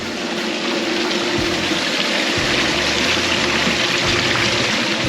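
A Keene Engineering power sluice converted for desert use, its valve wide open, pushes a loud, continuous rush of water with a steady pump hum underneath, close and unbroken, no talking.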